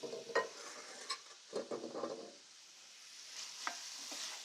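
Mushrooms stirred in a sauté pan: a soft sizzle with intermittent scraping and light clatter of the utensil against the pan, fairly quiet, with no voices.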